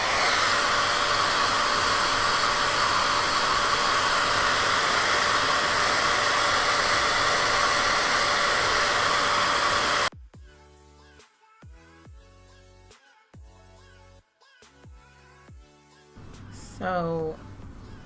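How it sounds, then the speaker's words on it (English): A blow dryer blasts loud and steady on faux locs for about ten seconds, then cuts off abruptly, and someone talks over a quiet room. "we're going to take the blow dryer and we're going to hold them out like this and just blow it dry"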